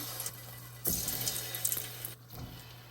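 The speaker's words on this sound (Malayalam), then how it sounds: "നമ്മൾ ഉരുട്ടിയെടുത്ത ആ ഓരോരോ ഉണ്ടകളുണ്ടല്ലോ അതങ്ങ് ഇട്ട് കൊടുക്കാം" Undampori dough balls go into hot oil over a medium flame. A continuous sizzling hiss swells in bursts as each piece drops in, close and with no talking.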